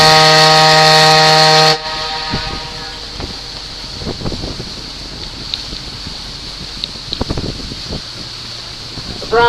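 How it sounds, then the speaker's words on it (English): Steam whistle of the Katahdin steamboat sounds one loud, steady blast for under two seconds, then cuts off, leaving wind noise and light knocks on board the boat. "I'm going to blow the whistle to announce our entrance into West Cove."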